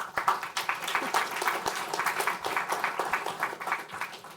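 An audience at a panel event on national data privacy law claps in sustained applause, a dense patter of many hands filling several seconds, with a faint voice underneath.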